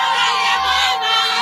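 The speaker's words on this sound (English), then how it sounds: "we drove straight into crowds gathered to celebrate the arrival of the rebels" A large crowd celebrates the arrival of rebels, with loud, dense cheering, shouting and whooping voices filling the air close by without pause.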